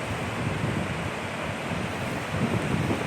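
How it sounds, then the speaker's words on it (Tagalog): Rushing water at a waterfall, a dense, steady roar of broadband noise throughout, close and fairly loud, with no voices. "Ayan falls oh."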